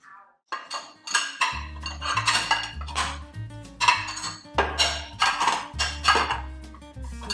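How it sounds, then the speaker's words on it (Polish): Dishes being unloaded from a dishwasher in a home kitchen: repeated clinks and clatters of plates, pots and cutlery stacked and set down in a steady, busy rhythm, close and fairly loud, with no talking. "rano wyjmujemy zmywanie, które zrobiło się wieczorem"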